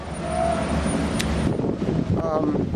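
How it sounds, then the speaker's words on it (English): Steady rumbling wind buffets the microphone throughout in Miami, loud and close, with faint traffic and a brief voice in the background. "This is like just so this is too windy."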